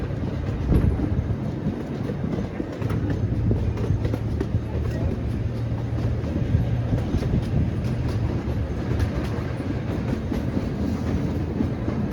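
Roller coaster train rolling along its track at a Connecticut amusement park and entering a tunnel, a loud, steady rumbling roar with low clickety-clack, close and continuous for the whole span.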